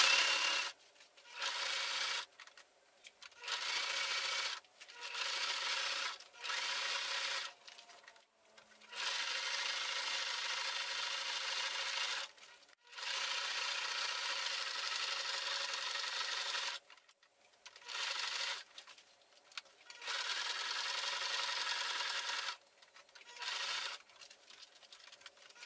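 A sewing machine stitches plastic and Teflon fabric for an insulated lunch bag, running in repeated bursts of steady whirring broken by short pauses, close and fairly quiet.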